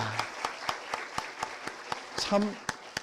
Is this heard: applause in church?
yes